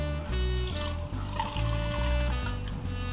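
Cognac is poured into a cocktail shaker with ice for a Sidecar, a steady close trickle of liquid under a low hum, with a brief break partway through.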